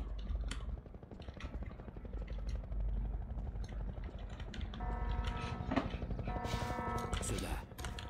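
Combine helicopter in Half-Life 2 Episode Two, a rapid rotor thudding throbbing steadily throughout, with tonal whine and sharp clicks rising near the end, fairly faint overall.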